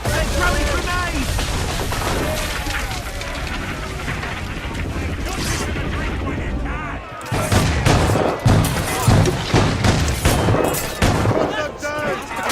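Musket volleys crack and boom in Assassin's Creed Rogue, a roaring battle din of massed gunfire that drops out briefly then returns as dense, rapid shots, with shouting voices mixed in.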